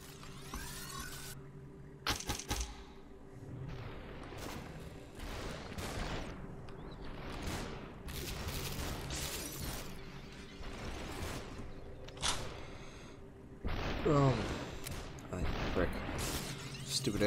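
Gunfire in the slow-motion shooter game Superhot comes as scattered sharp shots and shattering bursts, some loud and close, spread over a stretch with a player talking in between.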